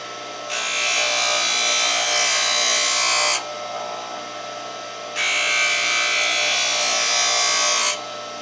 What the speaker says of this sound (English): So we'll grind that one a little bit heavier.